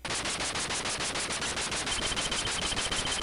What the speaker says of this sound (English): Vulcanized bullets drove into the mud.